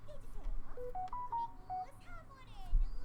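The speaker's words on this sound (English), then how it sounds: "That was my phone." A mobile phone plays a short melodic tone sequence of several distinct beeps stepping up and down in pitch, fairly clear over a quiet background, with a light thump near the end.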